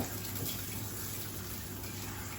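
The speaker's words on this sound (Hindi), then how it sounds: "ये दोबारा से फिर अनीता इसको सही तरह से वॉश कर रही है जी।" Potatoes are rinsed under cold running water in a home kitchen, a faint, steady, even wash of water with no speech.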